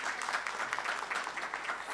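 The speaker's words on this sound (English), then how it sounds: "another round of applause for him" A conference audience at an IGAD regional policy session applauds a speaker, a fairly faint, steady wash of many hands clapping with small rhythmic surges throughout.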